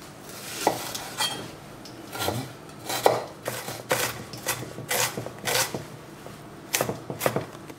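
An onion being prepared on a kitchen board, a run of sharp, irregular knife taps and scraping clicks at close range, spaced unevenly across the stretch against a quiet background.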